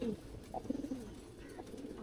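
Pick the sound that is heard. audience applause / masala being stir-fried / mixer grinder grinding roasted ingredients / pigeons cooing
pigeons cooing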